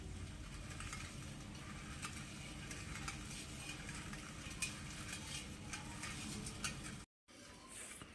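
Panakam, a sweet jaggery drink made for a Sri Rama Navami puja at home, being stirred in a vessel, giving a steady, continuous scraping and swishing that runs throughout with no talking, then cuts off briefly near the end.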